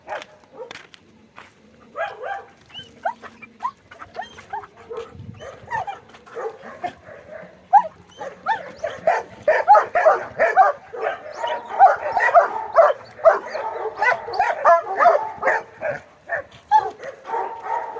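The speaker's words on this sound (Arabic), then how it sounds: "انا هدي للكلب ظهري اهو وعمر هيخش نشوف الكلب هيعمل ايه" A guard dog barks and yips in rapid, agitated bursts while attacking, growing louder and more frantic midway, with scuffling and snapping sounds close by.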